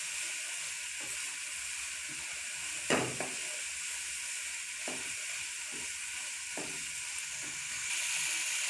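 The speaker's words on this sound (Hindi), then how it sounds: "अब इनको ये मसाले जो हैं वो इस स्टेज पे आप लोगों ने डालने हैं और फिर से इसकी अच्छे से भुनाई करनी है हम लोगों ने।" Chickpeas roast in a pan with coriander and black pepper, a steady sizzle broken by a few scraping stirs, one louder near the start, with no talking.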